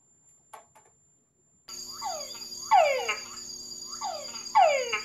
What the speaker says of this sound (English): That's a male frog calling.